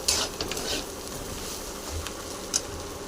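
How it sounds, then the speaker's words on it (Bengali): Semolina and vegetables fry together in a pan with a soft, continuous sizzle, broken by a few brief scraping stirs of a spoon, close but fairly quiet. "এবার সুজি সবজি একসাথে ভেজে নিলাম"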